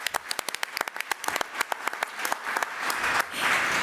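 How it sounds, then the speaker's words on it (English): An audience at a school board meeting applauds a student of the month, starting with sharp, distinct individual claps that quickly thicken into a fuller, continuous round of clapping that swells toward the end. "So let's give Cesar another round of applause"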